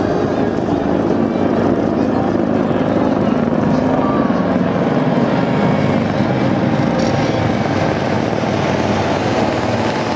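A fire department helicopter's steady, loud rotor and engine drone fills the air without pause, with a faint voice over it, during a Tokyo Fire Department New Year parade.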